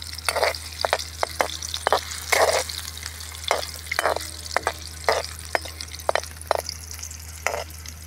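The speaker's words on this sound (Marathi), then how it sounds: "तर आधी आता तेलामध्ये बोंबील टाकलेले आहेत, तर हे बोंबील थोडे तळून घ्यायचे आहेत" Bombay duck fish frying in hot oil, a steady sizzle broken by repeated crackling pops and bursts of spatter, close and continuous, as part of a village-style Marathi fish curry.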